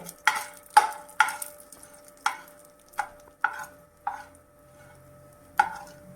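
Mustard seeds, urad dal and chana dal fry in a pan over a low flame, giving about eight sharp, separate pops at uneven intervals, close and crisp against a quiet background.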